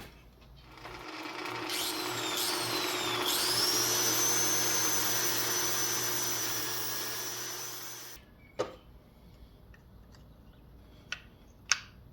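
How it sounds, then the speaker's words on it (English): An angle grinder takes diameter off a metal disc, spinning up with a rising whine, then grinding steadily and loudly for several seconds before stopping. A few sharp metallic clicks and knocks follow in the quiet. "take off a little bit of that diameter with the angle grinder"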